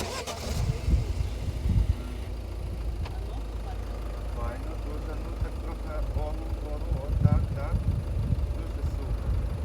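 A car engine is cranked and started nearby, with bursts of starter and engine noise amid a Ukrainian-speaking conversation that runs throughout.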